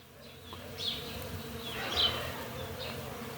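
Bees buzz around outdoors in a steady insect drone, with a few louder passes as individual bees fly close to the recorder before drifting off again. No one speaks.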